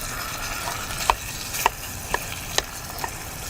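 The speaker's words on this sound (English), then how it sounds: "all we're going to do here is just brown this meat" Stew meat seasoned with salt and pepper browning in a pan on a portable cooking system, a steady low sizzle with a few sharp clicks and taps from stirring.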